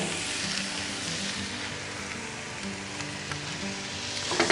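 Butter sizzling in a Dutch oven while cooking a lower-carb mountain man breakfast, a steady broadband fizz with a faint low hum beneath, constant and fairly close with no talking.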